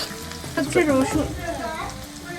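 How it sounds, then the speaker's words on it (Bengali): Oil sizzling steadily in a pan as onions and slit green chilies fry, with a stirring scrape and a voice talking briefly over the frying. "পেঁয়াজটা ভাজা ভাজা হয়ে গেছে, এখন আমি কাঁচা মরিচগুলো যে চিড়ে রেখেছিলাম এগুলো দিয়ে দিলাম"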